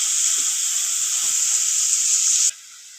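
Onion sautés in oil after mustard seeds and cumin, making a bright, even sizzle with a couple of soft utensil taps. The sizzle drops off abruptly near the end, and no one speaks.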